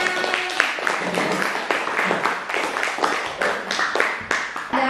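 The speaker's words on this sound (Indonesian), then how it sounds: "silakan tepuk tangan." A class of students claps hands together in a lively burst of applause, with many distinct overlapping claps keeping a brisk, uneven rhythm throughout, close and fairly loud.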